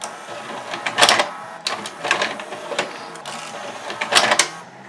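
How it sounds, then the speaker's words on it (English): A slipping drive belt in the tape loading mechanism of a 1992 Admiral (Sharp) VCR, heard as repeated scraping, whirring mechanical bursts about once a second, close and fairly loud, with no talking. "And the belt's slipping."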